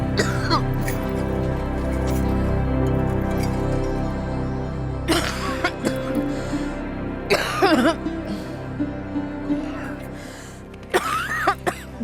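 Harsh coughing from an elderly woman comes in several separate bursts, mixed with voices talking and a steady music bed underneath.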